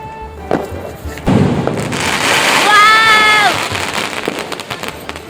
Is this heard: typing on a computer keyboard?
no